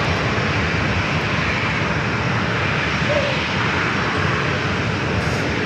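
An A320neo arriving at San Diego airport from Las Vegas gives off a steady, close jet rumble, dense and unchanging through the brief stretch, with no voices.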